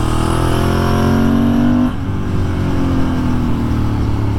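A Ducati motorcycle engine runs loudly and close in the Ardèche, holding a steady high drone, then dropping briefly before settling back to a sustained roar.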